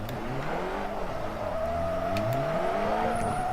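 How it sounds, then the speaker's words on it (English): A Nissan S13 drift car of about 450 horsepower drifts with a sustained engine drone that climbs in pitch, accompanied by tire squeal, heard from nearby and continuous without talk. "car I am driving is my A-Class S13. About 450 horsepower."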